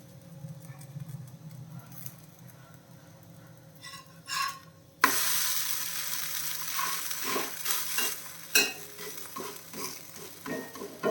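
Oats chapati cooking in ghee on a hot pan, starting with a faint low sizzle, then a sudden loud burst of frying hiss at about five seconds that keeps going with crackles and stirring scrapes.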